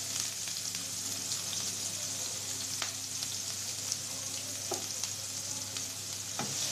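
Chopped onions frying in oil in a pan for a vegetarian biryani, a constant close hiss and crackle with occasional spoon scrapes, with no voices.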